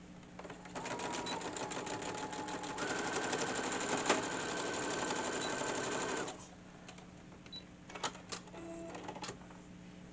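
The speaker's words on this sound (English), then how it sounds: "Now we're just going to sew these two together." A sewing machine runs steadily, stitching quilt squares together for a patchwork pocket prayer quilt, a continuous close mechanical whir that stops after about six seconds, followed by a few light clicks and handling sounds.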